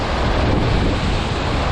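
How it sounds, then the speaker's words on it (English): Loud, continuous roar of rough surf with big waves crashing close by, with heavy wind buffeting the microphone throughout. "Big waves here, really big."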